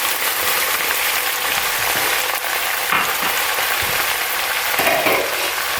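Loud, steady sizzling as onions and peppers go into a hot pan with collard greens and cabbage, a continuous close frying hiss with a few brief clatters.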